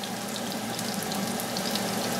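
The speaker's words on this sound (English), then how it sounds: "you should always hear that sizzle when you put that in" Blackened tuna sears in a hot pan, giving a steady, close crackling sizzle that holds unbroken through the short stretch with no voices.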